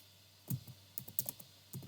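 Computer keyboard typing in a few quick, light clusters of keystrokes while a name is entered; short scattered taps, fairly faint, no talk.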